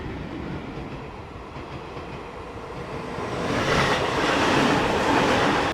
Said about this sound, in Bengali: নৈহাটি ঢোকার আগেই ট্রেনটাকে দাঁড় করিয়ে দিল